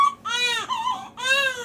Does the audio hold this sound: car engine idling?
no